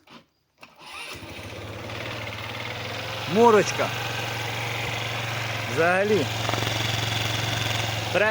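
A small two-stroke motorcycle engine idles steadily with a low, even putter throughout, starting up after a short gap near the start; people talk briefly over it.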